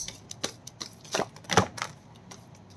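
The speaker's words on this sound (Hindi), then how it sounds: "This is my last shuffle, angels." Tarot cards being shuffled by hand, a series of soft, close riffling snaps and taps in an irregular rhythm, with a couple of sharper clusters in the middle.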